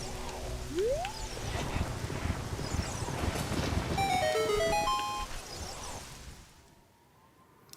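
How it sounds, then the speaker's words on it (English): Gusty wind rushes and whistles steadily over a cluttered background of faint tones and chimes from the video game Ocarina of Time, fading out near the end. "It sounds like a ghost, but it's really the wind."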